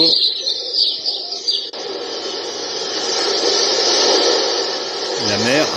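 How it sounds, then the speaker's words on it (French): Synthetic-sounding bird chirps and tweets play continuously from a bedside lamp's sound player over a hissy, compressed background, fairly loud and steady, with a brief shift partway through. "Les petits oiseaux."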